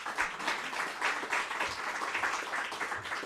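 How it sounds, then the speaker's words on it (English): Government announcement audience clapping for themselves, a moderately faint, steady patter of many hands with an even texture and no speech over it. "And you're clapping for yourselves"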